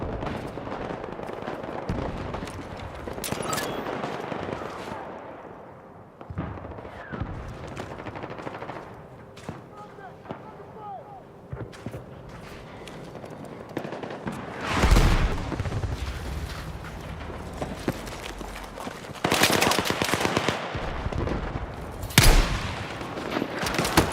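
Gunfire from the video game Battlefield 6 rattles in repeated bursts and single shots, with louder, denser volleys later on and a continuous clamor of game sound effects throughout.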